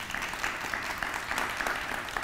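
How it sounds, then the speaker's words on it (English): A crowd applauding steadily at a middle school dedication ceremony, dense clapping at moderate distance, fairly quiet and even throughout with no voices on top. "round of applause for them"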